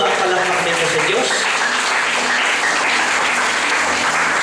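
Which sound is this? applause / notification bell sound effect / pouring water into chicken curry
applause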